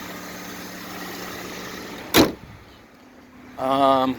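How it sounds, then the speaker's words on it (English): Car power windows being operated, a steady whirring motor under quiet cabin noise, then a sharp click or thunk as a window stops, followed by another short motor whine starting up. "Let's do all the windows."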